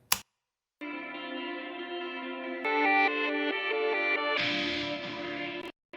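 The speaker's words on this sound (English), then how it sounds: "we take the reverse taps, and there's a little affected guitar right here" A reversed electric guitar soaked in tap reverb swells in alone, sustained tones shifting through stepped chords and ending in a bright washed-out bloom before cutting off.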